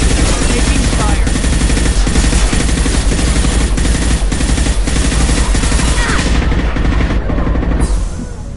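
Dense, sustained gunfire from a firefight in the video game Mass Effect: rapid automatic bursts and heavy impacts pile up loudly and continuously with voices underneath, then the shooting thins out and fades at the end.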